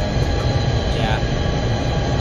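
Diesel train rumbling steadily in the Rigs of Rods driving game, a continuous low drone with faint rail noise and no distinct events across the short stretch.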